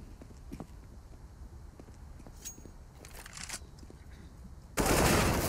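Gunfire from a Counter-Strike: Global Offensive esports match on the Overpass map, heard as a run of quick shots and clatter over steady game ambience, ending in a loud burst of noise.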